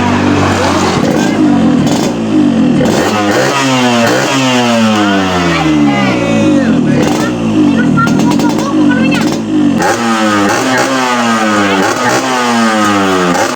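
A motorcycle engine that has just been overhauled runs loud and close, revving up and down repeatedly in rising and falling sweeps, while people talk over it.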